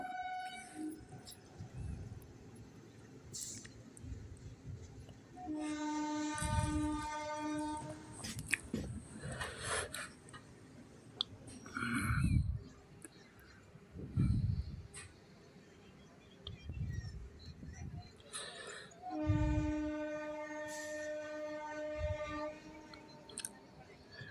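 The Puri–Surat Superfast Express runs steadily through Dungargadh station without stopping, rhythmic clatter, sounding long horn blasts twice as it passes, with faint voices nearby.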